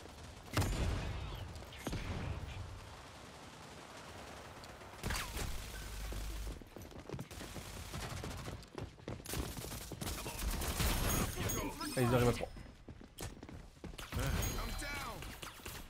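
Submachine gun fire in the Rogue Company video game comes in rapid, uneven bursts mixed with clanks, impacts and other busy game sounds. The loudness swells and drops throughout.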